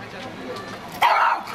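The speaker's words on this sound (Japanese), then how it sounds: "怪しいから吠えないで" A small dog barks once sharply in a yelping tone, close by at an outdoor cherry blossom viewing, with rustling and background noise before it.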